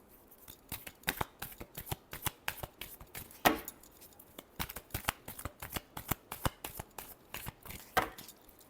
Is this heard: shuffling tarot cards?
yes